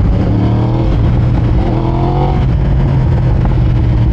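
Loud, close Yamaha R1M sport bike engine revving with a steady, sustained growl and a rising pitch sweep partway through, alone with no talking.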